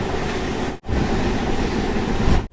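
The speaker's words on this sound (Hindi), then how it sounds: "फिलहाल अपनी सवारी गाड़ी कारी कोसी नदी के ऊपर से गुजर रही है" A MEMU passenger train on the Katihar to Samastipur line crosses a bridge over the Kari Kosi river, a loud, continuous rolling rumble from on board, with a brief dropout near the start.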